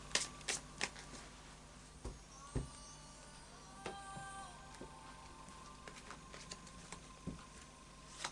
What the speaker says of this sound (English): Final shuffle of the Tarot of Dreams.